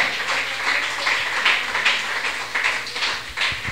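A church congregation claps and applauds continuously with uneven, swelling waves of clapping throughout, no voices standing out.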